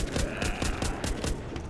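Rapid bursts of gunfire crack out in a zombie shooter video game, roughly six evenly spaced loud shots over about two seconds against a dense, noisy game backdrop.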